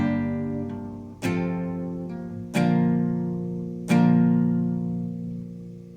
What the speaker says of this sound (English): we are just going to strum down each chord